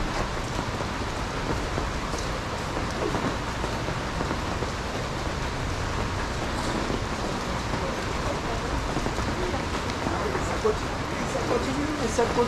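Rain falls steadily and heavily for a long stretch, a dense continuous hiss and patter on surfaces with no break, and people talk over it.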